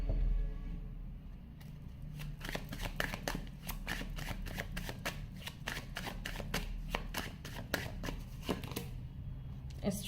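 A tarot card deck being shuffled, giving a long run of quick, crisp riffling flutters that repeat steadily, close and fairly quiet, with no talking.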